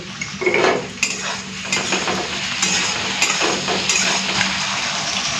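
Constant sizzling of salted potatoes frying in oil, with repeated clinks and scrapes of a metal spatula against the pan nearby.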